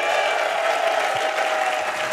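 Crowd at Summer Games Done Quick 2022 cheering and applauding in a steady, dense wash of claps and voices that holds throughout, fairly loud and close.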